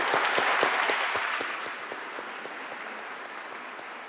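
A church congregation applauds during a Christmas Eve Mass, many hands clapping at once. The applause starts loud and full, then gradually thins and fades, with a few scattered individual claps standing out toward the end.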